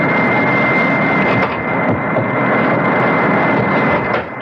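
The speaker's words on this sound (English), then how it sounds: "You fly the plane, Scotty." Airplane engine droning steadily in flight, a loud continuous hum with a constant tone throughout, heard alone with no voices, as a sound effect in a radio mystery drama.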